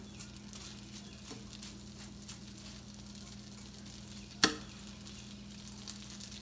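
Fries frying in a pan give a soft, continuous sizzle with light crackling and one sharp clink partway through, quiet and with no talking.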